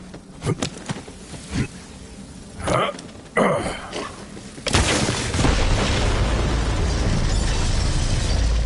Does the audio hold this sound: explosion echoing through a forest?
yes